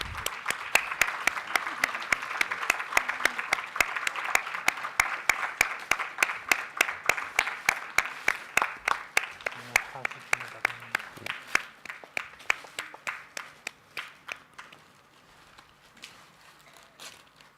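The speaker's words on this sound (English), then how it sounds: "Ladies and gentlemen, please give a huge round of applause" Audience applause at a book launch during an inaugural ceremony marking a 90th birth anniversary, steady dense clapping from a hall crowd that thins into scattered claps and fades out near the end.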